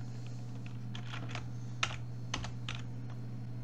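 Typing on a computer keyboard, a handful of light, quick key clicks in a short irregular run, close but fairly quiet over a steady low electrical hum.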